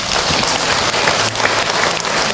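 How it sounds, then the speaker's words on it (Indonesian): Audience applause at an Islamic religious lecture, a steady wash of clapping from a crowd lasting a few seconds, loud and continuous with no voices over it. "Buat tepuk tangan untuk Ahilman ya."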